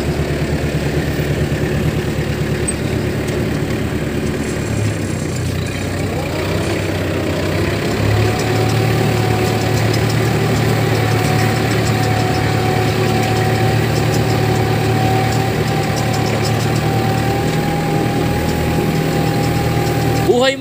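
A farm machine's engine idles steadily during a test run in a rice-farming setting, a loud, continuous mid-range drone with a held tone that persists for about twenty seconds with faint voices under it.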